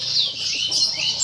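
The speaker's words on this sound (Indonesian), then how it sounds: "Nah kenari ini" A white canary, an F1 SF bird, sings in continuous high chirping trills that run steadily and fairly loud throughout, with no voices.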